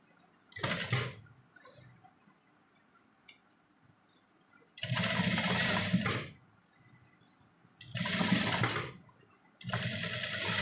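Sewing machine stitching around the neckline of a garment in short loud bursts, four runs of rapid needle chatter separated by quiet pauses, close and alone with no talking.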